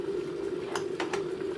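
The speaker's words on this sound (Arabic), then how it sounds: "تسخن لك كوباية مية" Water warms for a cup of green tea with lemon and mint, a steady low hum of a heater with faint bubbling and a couple of brief clinks or splashes.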